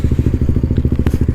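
A KTM Duke motorcycle running without its exhaust baffle gives a loud, close, steady pulsing engine and exhaust note, with evenly spaced rapid low thumps throughout.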